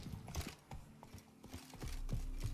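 Horse hooves in The Witcher 3: Wild Hunt, Blood and Wine expansion, clip-clop in quick irregular beats on a hard surface, fairly close, with low rumbling game ambience underneath.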